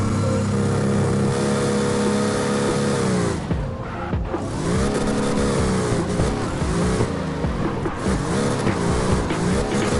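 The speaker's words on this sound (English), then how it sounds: "Smooth engine." In the CarX racing video game, a car engine drones and revs steadily for ten seconds, with rising and falling pitch sweeps as gears change, loud and continuous with no talking.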